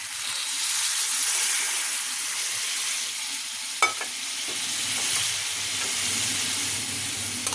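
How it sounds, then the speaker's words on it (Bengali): Hot water goes into a pan of frying potato, pointed gourd, soybean and tomato curry, giving a loud continuous hiss and sizzle with a sharp burst partway through, close by and without talk. "এই যে বাটিতে গরম জল আছে গরম জলটা আমি এবার দিয়ে দেবো"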